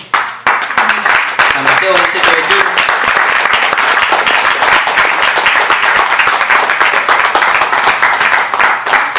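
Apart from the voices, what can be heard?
congregation clapping hands in church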